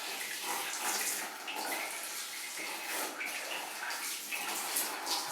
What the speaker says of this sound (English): So here we go with the first 5 litres of sparge water.